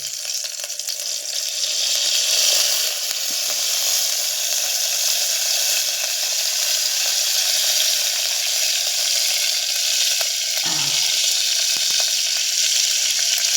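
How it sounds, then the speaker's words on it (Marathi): Oil sizzles loudly and steadily in a pan, heated to cook a traditional wild fig vegetable dish, a dense continuous hiss close up with a brief clatter partway through. "आधी तेल टाकून घ्यायचे थोडंसं."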